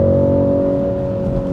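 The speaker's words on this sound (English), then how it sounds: "this car comes to life once you get into the extra boost" A 2023 BMW 3-Series engine roars loudly and steadily in boost mode, holding a strong high revving tone as it accelerates, close up and continuous.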